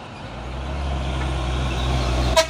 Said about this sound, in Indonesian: Oh, ini ada lagi truk kinolohan dan di belakang juga truk kanter ini.